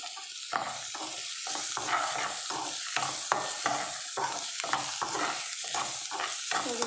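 Vermicelli mixture with salt fries and sizzles in a pan, a steady hiss broken by repeated stirring scrapes in an uneven rhythm, close and moderately loud with no talking.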